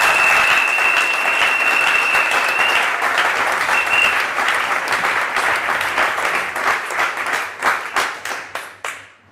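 A church congregation bursts into loud, sustained applause with dense overlapping claps, which thin out into scattered individual claps before fading away.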